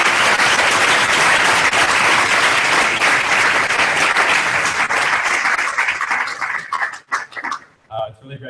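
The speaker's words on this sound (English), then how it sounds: "an appreciation round of applause for those people that actually shared stuff" Audience round of applause at a diversity allies event, loud, dense clapping for about six seconds that thins into scattered claps and fades, followed by a brief voice.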